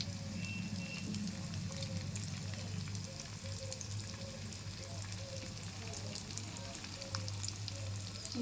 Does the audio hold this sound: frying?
yes